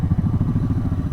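A motorcycle engine runs in first gear close by, its low, uneven throb pulsing steadily throughout with no voices.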